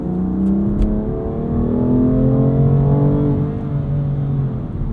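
A 2021 BMW M2 Competition with a dual-clutch gearbox pulls hard under turbo boost, its engine drone rising and falling in a smooth, continuous surge heard from inside the car, with no talking.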